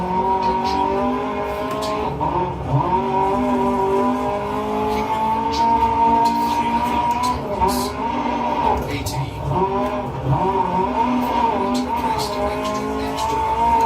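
Lancia Fulvia in the Dirt Rally 2.0 rally game, its engine droning and revving steadily through wheel spin, with tire squeal flickering over the continuous engine note.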